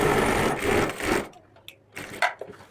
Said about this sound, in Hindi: हमने जिप की बाहर वाली किनार पर सिलाई लगा देना है।